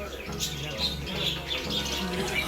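Caught birds chirp and tweet in short repeated calls close by, over a low rhythmic background hum and some faint murmuring.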